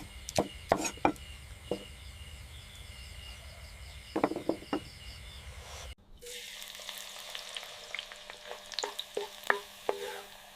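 Food sizzles in a warm clay pot cooked outdoors by a river, with scraping stir strokes and clinks against the pot, a soft frying hiss underneath, and faint crickets or birds in the background.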